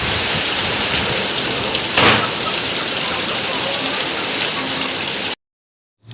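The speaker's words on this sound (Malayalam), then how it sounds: "അപ്പോഴത്തേക്കും നല്ല ഗംഭീര മഴ പെയ്തു കേട്ടോ." Heavy rain pours down in a steady, dense hiss, loud and continuous, before cutting off abruptly near the end.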